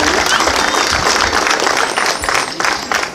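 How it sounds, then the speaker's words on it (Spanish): An outdoor crowd applauds at the inauguration of a park and street, a loud, sustained patter of clapping close by with some voices and a whistle-like tone over it. "Un aplauso, por favor, para ellos."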